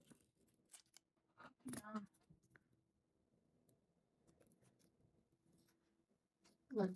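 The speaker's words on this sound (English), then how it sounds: "So I'm gonna cut out Ranjo from here" Scissors snip a sticker off a sheet while a laptop gets decorated with stickers: a few soft, close clicks and cuts spaced apart in a quiet room, with brief speech-like rustles between them.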